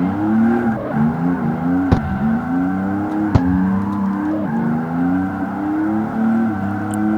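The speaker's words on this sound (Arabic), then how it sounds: "نعملو دريفت هنا جماعة الخير" A car drifts in the street racing game CarX Street, its engine revving and climbing in pitch in repeated waves while the tires squeal. Sharp clicks break in twice, and the engine sound stays close and loud throughout.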